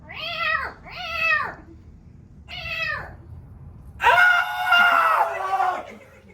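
Voices imitate a cat yowling and meowing in three short rising-falling cries, then launch into a longer, harsher burst of spitting and squalling, all up close with no other sound.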